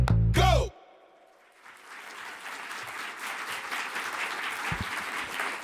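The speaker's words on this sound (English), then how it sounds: "Thank you for that applause" Audience applause at NASA headquarters in Washington, D.C., a steady broadband patter of clapping from a large indoor crowd that builds after a brief loud burst at the start and holds at moderate level throughout.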